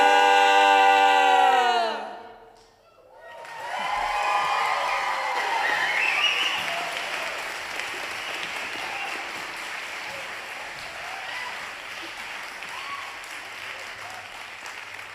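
A concert audience claps in a large hall. The applause starts right after a sung note ends, swells into a full, dense wash of clapping and then slowly thins.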